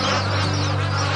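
A dense chorus of waterbirds gathered at shrinking waterholes in Australia quacks and honks continuously, many calls overlapping in a loud, busy wall of sound.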